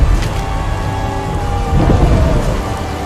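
Heavy thunderstorm with steady pouring rain and a low rumble of thunder swelling midway, loud and continuous throughout without any voices.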